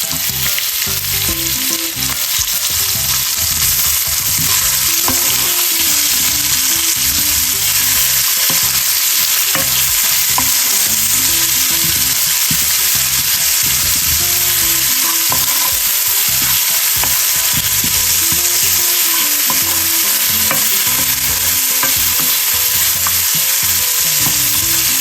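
Garlic cloves frying in oil until golden, a loud, continuous close sizzle with faint stirring scrapes throughout and no voices.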